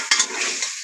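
Chicken with salt, chilli, turmeric and spices sizzles in a pan over a brief, loud burst of frying and stirring.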